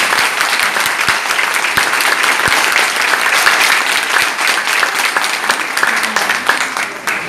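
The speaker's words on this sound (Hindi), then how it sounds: "जोरदार तालियां बजा दें।" Loud, sustained applause from an audience at an event at a Ceragem therapy center in Islamabad, dense clapping filling the whole stretch without letup.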